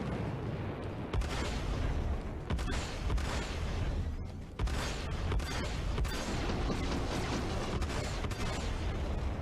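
Spaceship guns firing in the video game Star Citizen, rapid rattling bursts and booms in several volleys with brief pauses, steady and fairly loud, no talk.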